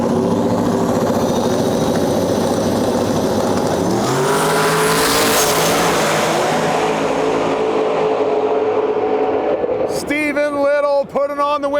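A 4th gen Camaro race car roars loudly on a dangerous race track, its engine note rising and shifting in pitch as it passes, then revving hard near the end with tire noise.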